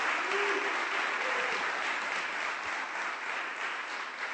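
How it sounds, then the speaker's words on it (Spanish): An auditorium audience at an art and culture symposium applauds in a steady, moderately distant wash of clapping that fades slightly toward the end. "Para todos ellos pido un fuerte aplauso por el maravilloso trabajo."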